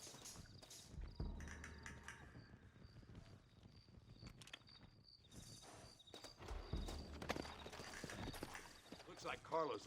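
Horses in the Red Dead Redemption video game walk at a slow clip-clop, hooves thudding over faint crickets and ambient outdoor sound, with someone speaking briefly over it.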